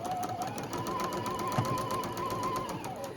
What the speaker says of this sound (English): pop that onto there, line it up and stitch. 1/4 inch seam.